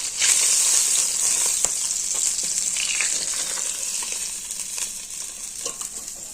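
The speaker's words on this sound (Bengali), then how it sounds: "মাছ ভাজা হয়ে গিয়েছে" Pieces of rohu fish frying in hot oil in a pan, giving a steady, close, crackling sizzle that holds at an even level throughout with no voices.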